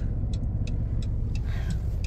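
A car's steady low road rumble and engine drone fill the cabin as it drives slowly in circles around a blocked area, with faint periodic ticking over the top.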